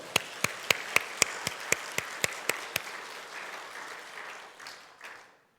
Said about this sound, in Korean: 우리 하나님 앞에 감사의 박수.